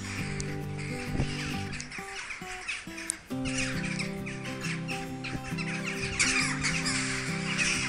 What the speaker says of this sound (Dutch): Allemaal kraaien.